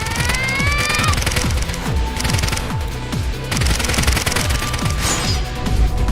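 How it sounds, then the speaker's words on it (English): Automatic rifle gunfire in a video game: a dense run of rapid, repeated shots with sharp booms, plus short rising synth tones and game effects laid over a steady backdrop, loud and continuous. "just block all 3 bullets they just shot with their automatic rifles"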